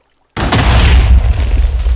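A loud, close cannon blast from a longship in the naval video game Ship Battles bursts in abruptly after silence, then rolls on as a heavy low rumble with no speech.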